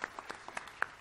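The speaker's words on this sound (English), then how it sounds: "Please give them another round of applause." Sparse, faint applause at a building dedication ceremony, a handful of separate claps spread unevenly across about a second, quiet and distant.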